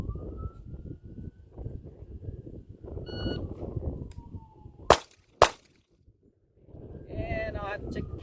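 Two loud, sharp pistol shots from a Kimber Pro Carry 2 in .45 ACP crack about half a second apart at a shooting range, after a stretch of rumbling outdoor background noise.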